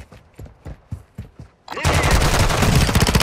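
In a Modern Warfare 2 match, single gunshots crack out in a quick rhythmic string, then give way to a dense, sustained roar of rapid automatic fire.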